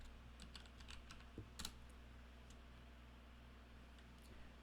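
Quiet, rapid clicking of keys on a computer keyboard during a Minecraft Java PC session, irregular bursts of taps with a brief louder cluster near the middle, alone over faint background hum.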